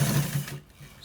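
Sewing machine stitching a seam on white designed trousers, a steady low motor hum running for about half a second before dropping to a quieter whir, close by with no talk.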